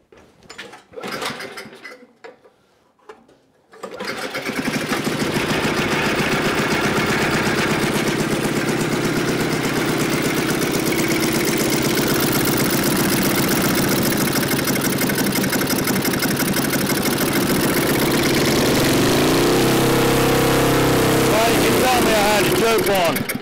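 A neglected Craftsman snowblower engine sputters briefly, then catches and runs steadily and loudly at a rough, rattling idle for a long stretch, close to the listener, with speech mixed in.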